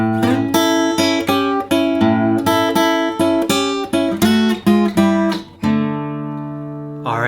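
Blues guitar lick from a transition, a busy run of plucked notes with ringing strums that ends on a sustained chord left to decay, played solo without talk.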